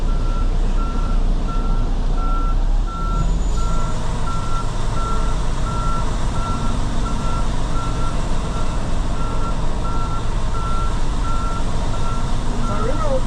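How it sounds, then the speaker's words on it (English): A truck backing up gives a steady series of evenly spaced reversing beeps over a loud rumbling diesel engine, continuing throughout at close range. "So they back their truck up to it."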